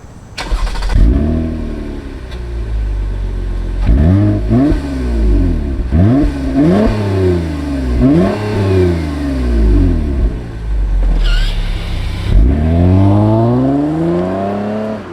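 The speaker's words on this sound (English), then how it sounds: "you get a TRD tuned exhaust, which sounds really good inside and outside" A Toyota Camry TRD V6 with a TRD tuned exhaust revs outside, a series of loud, close blips climbing and falling in pitch, about six sharp rev bursts spaced a couple of seconds apart with idle between.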